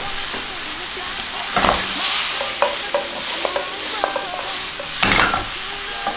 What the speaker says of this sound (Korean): 버터와 양파를 이렇게 볶다 보면은